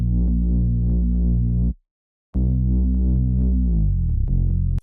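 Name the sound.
Drones of Dune bass one-shot in a beat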